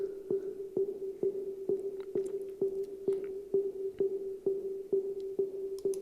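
A quiet, submarine-like background sound effect layered into a music track: a steady low hum with soft, evenly spaced pulses about twice a second, looping alone without any voices.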